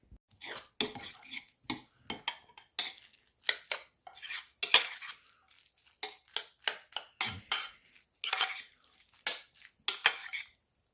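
Metal utensils clink and scrape against a bowl while sardine salad with fresh lemon is tossed, a series of irregular close knocks and rattles separated by short quiet gaps.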